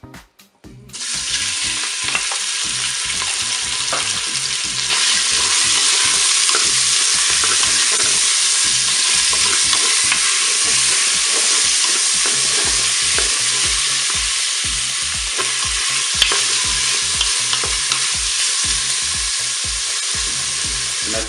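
Meat frying in hot olive oil inside a Cookeo multicooker for a goulash, a loud steady sizzle that starts abruptly and swells after a few seconds, with occasional scraping stirs, no voices.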